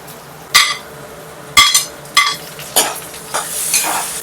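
A spoon scrapes and clatters through tomato and roasted onion in a frying pan, giving five or six distinct stirring knocks over a soft sizzle.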